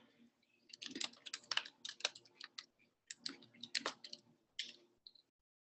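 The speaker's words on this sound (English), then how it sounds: "let me type it" Bursts of typing on a computer keyboard as a short name is entered, quick clustered key clicks in two runs with brief pauses, close and fairly quiet.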